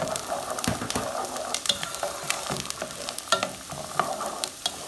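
Diced onion and carrot fry in a pan with a steady close sizzle, punctuated by frequent sharp clicks and scrapes of a utensil stirring the vegetables.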